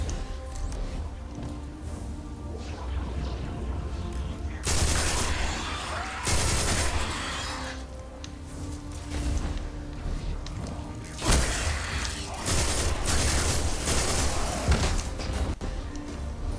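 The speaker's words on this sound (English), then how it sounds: "Need to know what that explosion was." Video-game combat roars on with dense gunfire and booming explosions, the heaviest blasts coming in bursts near the middle and again toward the end over a constant rumbling din.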